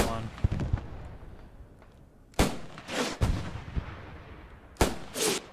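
Anti-tank guns fire at a tank in the WWII video game Post Scriptum: several sharp, heavy booms spaced a second or two apart, each followed by a rumbling echo, with faint talk in between.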